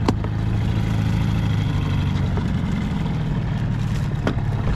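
A small outboard motor runs on a 9'6" Newport dinghy while trolling for fish, holding a steady, close, even drone for several seconds with a few sharp knocks and clicks over it.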